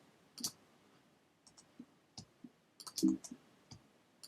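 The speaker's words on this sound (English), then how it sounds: "And I'm just clicking OK by hitting return on the keyboard." Sharp, quiet keyboard clicks from the return key being pressed, about a dozen separate taps in an irregular rhythm, close and alone.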